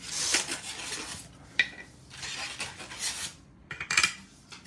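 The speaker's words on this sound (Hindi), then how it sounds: "साथ में चीनी के 2 बर्तन इसके साथ दिए गए हैं." Ceramic dishes set in a wooden holder are handled nearby, producing several separate clinks, scrapes and rattles in bursts with quiet gaps between them.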